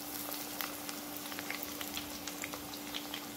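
Small salgado snacks frying in very hot fat, a steady close crackle and sizzle with scattered pops throughout, no voices over it.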